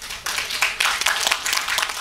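An audience at a live Nepali stage show breaking into applause, dense rapid clapping from many hands that stays loud and steady throughout.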